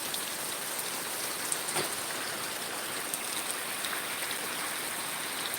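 Heavy rain pours down steadily as a dense, even hiss of drops on surfaces, close and constant throughout with no speech.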